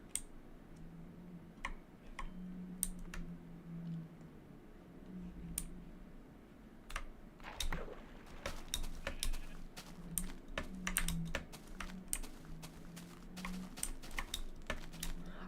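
Rapid clacking from a loud computer keyboard, at first sparse and then building into dense, busy typing. The keys sound close, over a low background hum, and no one speaks.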